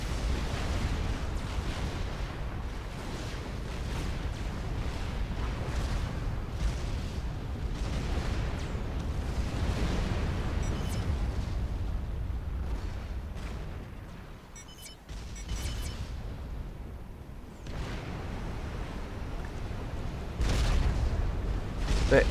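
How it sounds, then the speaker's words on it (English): Scathis artillery fire in Supreme Commander: Forged Alliance Forever, a dense, continuous rumble of booms and explosions in a game battle, sustained and heavy throughout. "the Scathis has been started by Sentinel"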